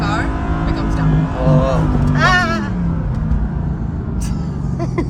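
A Shelby GT500 Mustang Eleanor engine held at high RPM, a loud steady drone that shifts pitch slightly, heard under ongoing conversation inside the car.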